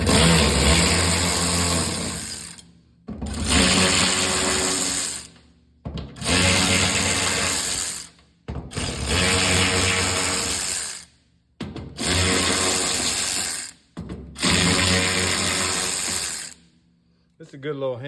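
A compact DeWalt 3/8-inch drive power tool spinning a 13 mm socket while replacing the fuel sending unit on a 1997 RV bus with a 7.3 Powerstroke diesel. Six loud, close whirring bursts of about two seconds each are separated by short pauses.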